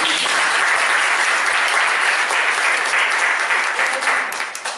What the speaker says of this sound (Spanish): le aplaudimos, ¿verdad?